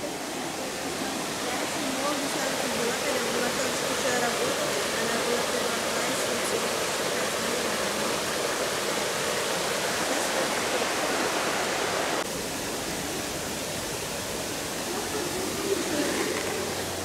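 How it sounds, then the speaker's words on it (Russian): Steady rushing water over a small river weir at the Ieriķu mill trail in Latvia, a continuous broadband roar like small rapids, with faint bird calls in the background. "На каждом уровне, повторюсь, свой звук воды, свой порог."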